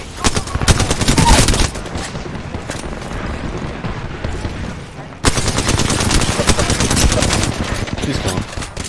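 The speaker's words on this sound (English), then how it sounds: "you're gonna keep shooting at me, I'm gonna blast you" Rapid bursts of automatic gunfire from a shooter video game, loud and dense, with a sustained firefight that pauses briefly midway and then resumes at full intensity.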